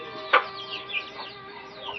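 A mother hen clucks softly while pecking at rice, with one louder sharp cluck early on and quieter chirps and murmurs after it, heard close and alone.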